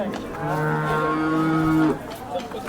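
A cow at a busy cattle market gives one long, loud, drawn-out moo lasting over a second, with faint market noise before and after.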